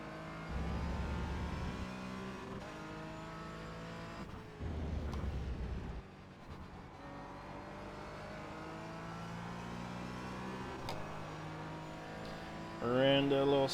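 A race car's engine drones steadily through a lap at Donington, rising and falling with shifts and throttle changes. A voice talks over it throughout.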